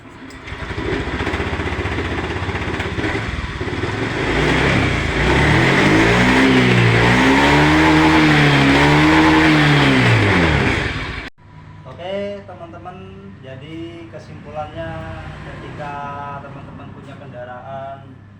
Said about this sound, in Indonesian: akhirnya motornya hidup ya